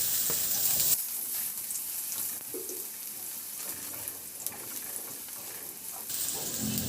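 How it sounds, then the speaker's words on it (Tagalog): Garlic sautés in hot oil in a pan for a Filipino milkfish dish, giving a steady, bright sizzle and crackle that runs without pause, with no talk over it. "Magpainit na rin ako ng mantika sa kawali at igisa ko na rin yung bawang."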